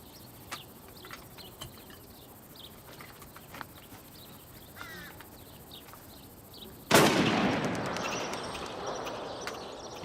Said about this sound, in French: Prends le fusil, tire un coup dans le bois.